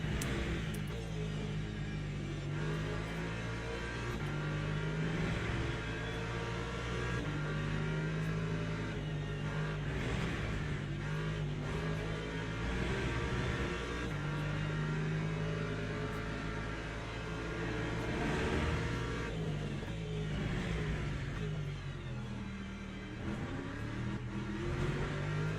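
Race car engines in Le Mans Ultimate at Laguna Seca drone and rev continuously at moderate level, pitch rising and falling through gear changes as several cars run close together.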